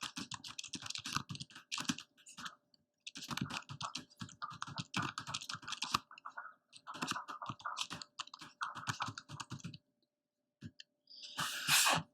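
Someone types HTML on a computer keyboard, producing close, crisp key clatter in several bursts broken by short pauses, then a brief louder rustle at the end.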